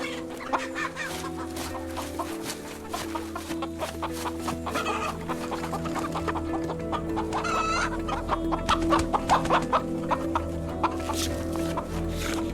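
Chickens clucking steadily at a roadside in Romania, a busy overlapping flock heard close and fairly loud over a low background hum, with a few sharper squawks standing out.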